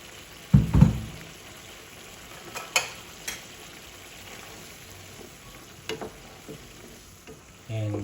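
Sardines being stirred in a frying pan, with a few scraping clatters early on and faint sizzling running underneath at a low level, followed by another utensil knock near the end.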